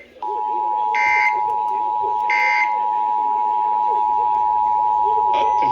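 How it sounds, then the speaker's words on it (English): An Emergency Alert System test tone sounds as a steady, loud continuous tone, interrupted by a few brief, brighter warbling bursts, with a faint murmur running underneath. "A coordinated monthly local test of the emergency alert system, originating from the EAS local primary station for this area."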